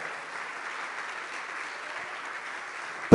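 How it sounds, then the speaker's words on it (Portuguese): A church congregation claps together, a steady dense wash of applause that holds at an even level from start to finish. "De palmas ao Senhor, amém?"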